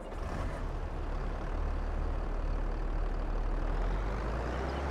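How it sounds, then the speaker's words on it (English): A tractor engine in the farming video game Farming Simulator 22, a steady heavy low rumble running continuously and loud throughout, with no talking. "we'll have to move the tractor out of the way"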